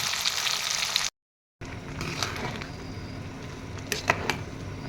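Meat dry-fries in a pan with a steady, bright sizzle and crackle. A brief dropout of near silence interrupts it before the hiss resumes, broken by a few sharper pops and scrapes.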